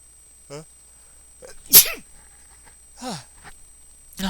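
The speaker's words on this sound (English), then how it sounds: "Jeez, a sneeze." A single sharp sneeze bursts out at close range, preceded by a quick intake of breath and followed by a few soft vocal sounds.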